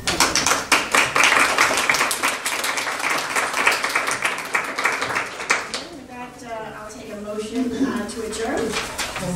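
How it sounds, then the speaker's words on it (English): Members of a county freeholders' board meeting in a boardroom give a round of applause, a burst of many hands clapping that runs for several seconds, then fades as voices and murmuring take over. "just really want to give you a special round of applause"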